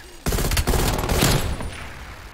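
Sentry turret firing in a video game, a dense rapid burst of automatic gunfire that starts abruptly and rattles loudly for about a second and a half before tapering off.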